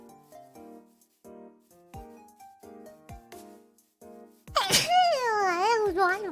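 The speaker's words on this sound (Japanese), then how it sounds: "くしゃみ出そう。" A woman's sneeze bursts out loud and close after a stretch of quiet game music with soft tonal notes, followed by a drawn-out, wavering vocal sound as it fades.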